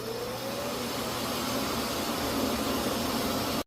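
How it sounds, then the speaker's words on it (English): A eufy E25 robot vacuum's base station emptying the dustbin gives a steady, fairly quiet whooshing roar of suction, running nearly unchanged before cutting off abruptly at the end. "it being the loudest when emptying the vacuum"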